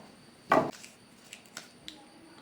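Green chillies being cut for a brinjal dish: one firm knife thud on a board, then a few light, scattered taps, close by with no talking.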